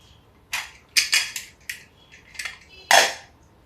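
Metal lid of a pressure cooker holding moong dal fitted into place, giving a handful of sharp, close clinks and clatters spaced irregularly across a few seconds, with no voices.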